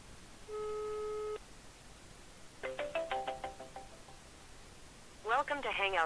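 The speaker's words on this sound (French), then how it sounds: "on va composer le numéro de téléphone pour rejoindre la conférence" A steady telephone tone is followed by a quick run of keypad dialing beeps on a speakerphone joining a Google Meet conference call, then a recorded voice prompt begins.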